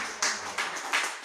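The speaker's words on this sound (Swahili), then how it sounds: "Wewe pigia Yesu makofi vizuri." A church congregation claps for Jesus in three distinct loud claps spaced about a third of a second apart, close and bright, with little else around them.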